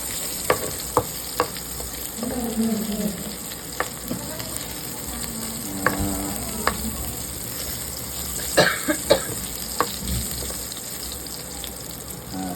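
Pork liver sizzling and frying in a pan until golden brown, a steady crackling hiss broken by scattered sharp pops and spatters, with occasional stirring clinks; no talking.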